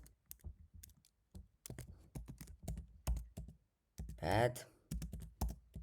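Someone types code on a computer keyboard in short bursts of close, crisp clicks, with pauses between the runs of keystrokes and a brief spoken word partway through.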